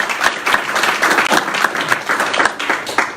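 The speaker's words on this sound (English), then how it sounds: "Please clap for that." Audience clapping at a school board meeting, a short burst of many hands with distinct individual claps showing through the dense, fairly loud patter.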